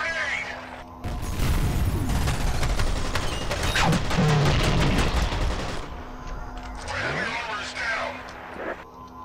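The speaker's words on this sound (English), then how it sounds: "Watch out, grenade!" A grenade blast in the shooter game F.E.A.R. comes as a loud, sustained burst of explosive noise mixed with rapid gunfire, lasting several seconds before fading back to quieter combat sounds.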